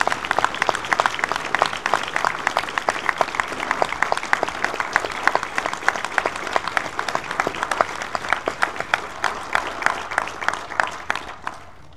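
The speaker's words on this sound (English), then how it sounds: "Let's give them a well-deserved round of applause." A crowd claps steadily for several seconds, dense rhythmic applause from a room full of people, tapering slightly toward the end.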